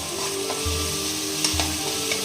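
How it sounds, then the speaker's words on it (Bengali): Ginger, garlic and onion paste fries and sizzles in a pan for chicken curry, a steady close crackle with two brief lower stirring scrapes partway through. "আদা রসুন পেঁয়াজ বাটা সব দিয়ে দিয়েছি ভাজা ভাজা হচ্ছে"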